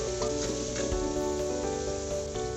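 Salted chana pulao mixture is stirred in a frying pot with a steady sizzle, close and continuous, with no voices over it.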